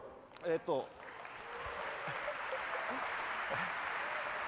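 Steady applause from a large crowd at a symphony orchestra concert swells and holds, following a brief spoken phrase at the start.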